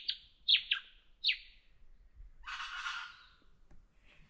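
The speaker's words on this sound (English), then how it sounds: "The birds are all chirping." Birds chirping at a high-elevation mountain campsite: three quick, bright chirps in the first second and a half, then a fuller burst of song, all fairly close and clear over quiet surroundings.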